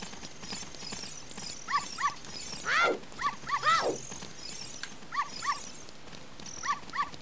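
A dog barks in short, repeated bursts in the video game The Legend of Zelda: Ocarina of Time, heard alongside hoof-like clip-clops and game sounds over a busy, low-level background.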